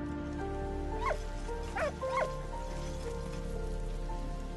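Dog from the video game Valiant Hearts giving three short barks or yips over a steady soft background of rain-like hiss and low ambient hum, fairly close.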